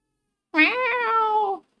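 A single close cat meow, clear and drawn out for about a second, rising and then gently falling in pitch, heard alone against silence.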